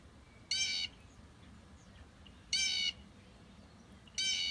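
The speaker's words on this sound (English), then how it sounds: "we're going to do one more, the blue jay, and see if you can't recognize this sound" Three loud, harsh calls of a blue jay ring out at regular intervals, each a brief raspy burst over a quiet outdoor background.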